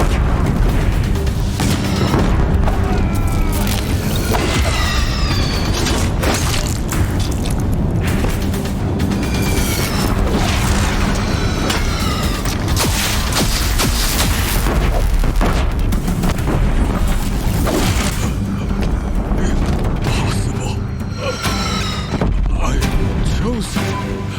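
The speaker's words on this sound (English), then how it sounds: "If the Deathbringers keep firing, this bridge will go." Heavy, continuous barrage from Deathbringer war machines in Horizon Zero Dawn pounding a bridge, loud booming blasts and mechanical whirring layered densely throughout, with a voice speaking over the bombardment.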